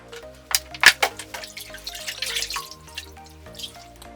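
Fursuit head and parts being washed by hand in a bath or shower, submerged in water with fabric softener: close wet drips and sloshing splashes in irregular bursts, with a few sharper plops early on.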